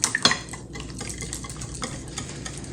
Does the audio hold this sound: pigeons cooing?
no